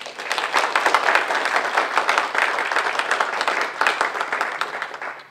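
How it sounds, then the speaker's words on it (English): Sustained, dense applause from an audience at a spiritual summit event at Lake Tahoe fills the whole stretch at an even, moderately loud level, with no talk over it. "let's give him a round of applause"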